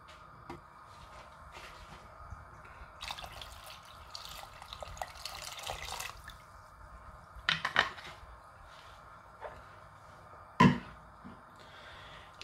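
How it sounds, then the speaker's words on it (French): Water is poured into a cooking pot holding chicken and a clove-studded onion for poule au pot, with soft splashing and trickling, a few clinks and knocks of the pot, and a low background hum. "je vais rajouter un peu d'eau pour que tout soit bien recouvert"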